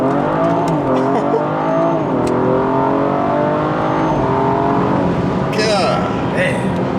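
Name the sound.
BMW F30 340i first gear acceleration pull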